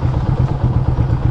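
A motorcycle tips over onto the ground with a clattering thud, heard close over a steady low engine rumble.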